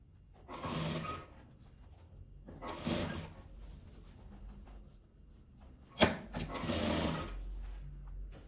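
Home sewing machine with a presser foot stitching a folded 1 cm hem on fabric scraps, running in three separate bursts of rapid whirring, each a second or so long, with quiet pauses between and a sharp knock just before the last run.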